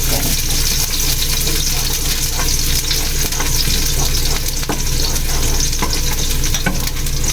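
Onion, tomato, garlic and ginger sizzle steadily in a hot pan, a dense continuous frying hiss with faint stirring scrapes, close and loud throughout.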